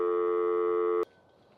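A single steady telephone signal tone holds for about a second and then cuts off abruptly, leaving faint background hiss.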